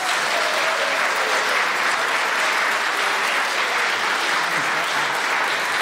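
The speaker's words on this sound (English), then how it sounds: "a radio theatre round of applause" A radio theatre audience at a BBC quiz recording breaks into sustained, dense applause, loud and even throughout with no voices over it.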